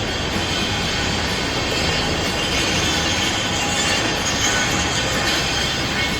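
A train rumbles steadily at Chennai Egmore railway station, a loud, continuous broadband roar with faint wheel squeal threaded through it and no pauses.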